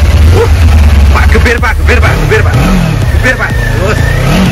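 A vehicle engine revs hard and close, its low throb swelling and easing, while several people shout and talk over it.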